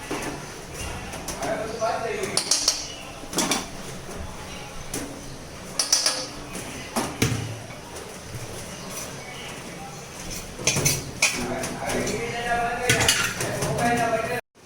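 Flour roasting in ghee in a pan for mohanthal is stirred with a utensil, giving intermittent scraping knocks and clinks against the metal, while a voice talks over parts of it.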